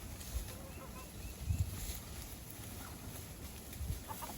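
Faint, scattered clucking from a few chickens outdoors, soft and somewhat distant against a breezy background.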